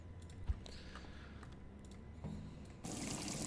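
Water runs into a brew kettle in the brewing game Brewpup Simulator, a steady faint trickle under soft keyboard-like clicks that swells into a louder, fuller rush near the end.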